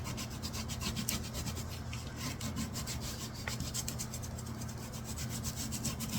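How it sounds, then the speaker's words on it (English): Paper being rubbed down firmly by hand onto an envelope junk journal: a steady, close, dry scuffing that keeps going with no break and no voices. "And I just rub really good. I make sure my edges are down really good."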